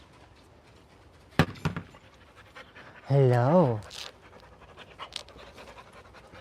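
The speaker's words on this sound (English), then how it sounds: "Hello, puppy." A puppy pants in a quick, breathy burst close by, while a person greets it and other faint noises and knocks sit around it.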